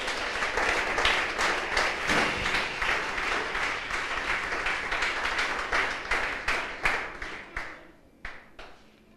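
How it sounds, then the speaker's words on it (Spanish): A church congregation claps and applauds together in a dense, steady roar of hands that thins and fades near the end. "Dale un aplauso fuerte a Jesús."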